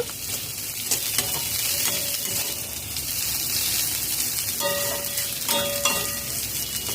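Onions and coriander leaves fry in a pan and are stirred, making a loud, dense sizzle with repeated scraping strokes of the spatula across the pan throughout, with no voices.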